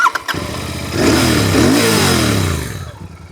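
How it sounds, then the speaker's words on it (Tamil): A Royal Enfield motorcycle engine fires up and revs, its deep thumping exhaust rising and then settling back down, loud and close. "எக்ஸாஸ்ட் நோட் கேட்டுட்ருக்கீங்க ராயல் என்ஃபீல்ட் பைக்ஸில் எல்லாருக்குமே ரொம்ப பிடிச்ச விஷயம் அந்த எக்ஸாஸ்ட் நோட் தான்"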